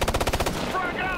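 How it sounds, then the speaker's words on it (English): Rapid automatic gunfire in the shooter game Ghost Recon Future Soldier, a loud close burst of about a dozen quick shots that gives way to a brief rumbling tail. "Who the hell is shooting?"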